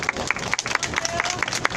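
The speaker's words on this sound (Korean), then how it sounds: "큰 박수 부탁드리겠습니다." A crowd at an outdoor Wednesday protest rally on a rainy day claps in short, uneven bursts, moderately loud and fairly close.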